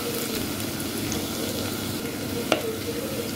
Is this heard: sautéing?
yes